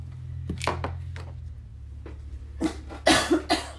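A few faint breaths and small sounds lead into a cluster of sharp, close coughs near the end, three or four in a row.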